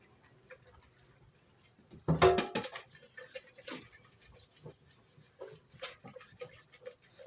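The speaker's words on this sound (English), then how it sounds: "And I'll rinse it inside my saucepan." Steel wool being rinsed with water inside a saucepan, heard up close as a short burst of splashing and scrubbing, followed by scattered faint drips and clinks.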